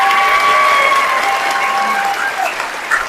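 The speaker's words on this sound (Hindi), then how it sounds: "जोरदार तालियां हो जाए।" An audience at a business programme event applauds a speaker onto the stage, a steady wash of crowd clapping that fades slightly toward the end, with a faint tonal hum beneath.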